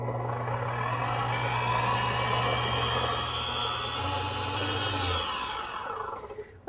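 A Breville stand mixer hums steadily at creaming speed while beating eggs and vanilla, a close continuous motor whine that winds down and stops near the end.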